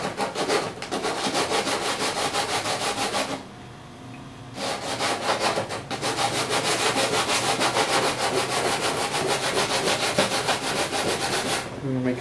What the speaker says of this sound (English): we're going to take our sandpaper here that comes with the Suncure, and we're just going to begin to sand it down